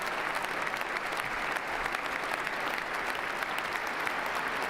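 Steady, dense applause from a large crowd at the 2025 Donald Trump presidential inauguration, continuous and even throughout with no pauses.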